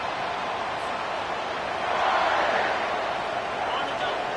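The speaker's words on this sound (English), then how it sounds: "This crowd bringing the energy and noise early" Football stadium crowd at a college game, a broad continuous roar of cheering that swells slightly midway, heard at a distance beneath a commentator's voice.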